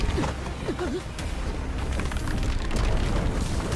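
A loud, rumbling explosion in an animated series, with a sustained roar and crackling debris, dense low-end booming throughout, no voices.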